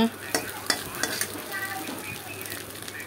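Chowmein noodles stir-fried with spices in a pan sizzle steadily while a spatula scrapes and clicks against the metal in quick, irregular strokes, close and fairly loud.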